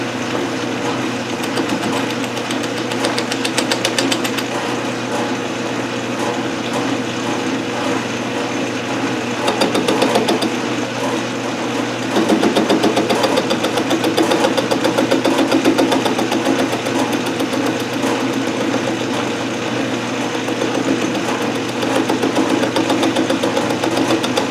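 A metal lathe turns a wobbling part for a ball turning attachment while it is faced off and trued up. A steady, loud mechanical drone hums throughout with slight rises in intensity and no talking.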